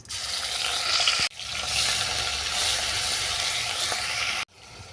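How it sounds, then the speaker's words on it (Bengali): Onion paste with spices goes into hot fish oil flavored with bay leaf and dried chili, producing a loud close sizzle that breaks off sharply twice as the pan is handled. "ফোড়ন ভাজা হয়ে গেছে, এরপর দেবো পেঁয়াজ বাটা,"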